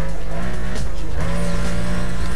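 Loud racing car engine with squealing tires as it brakes in Need for Speed Most Wanted, a continuous roaring whine throughout.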